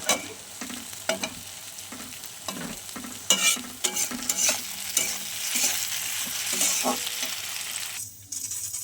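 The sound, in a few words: fish frying in a pan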